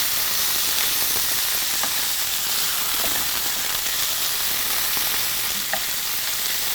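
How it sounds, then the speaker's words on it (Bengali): A hot pan of chicken mince and onions sizzles steadily and close, with a spatula stirring and scraping at irregular moments and no voices. "কিমাটাকে আমরা ভালো করে পেঁয়াজের সাথে ভেজে নিই ভেজে নিচ্ছি"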